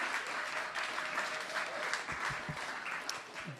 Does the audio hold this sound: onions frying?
no